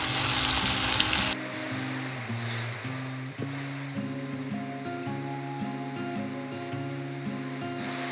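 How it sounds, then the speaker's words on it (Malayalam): Sliced beetroot chips fry in hot oil, a loud crackling sizzle for the first second, then quieter bubbling beneath steady background music. "അപ്പോൾ ബാക്കിയും കൂടി ഇട്ട് കൊടുത്ത് നമുക്ക് വറുത്തെടുക്കാം."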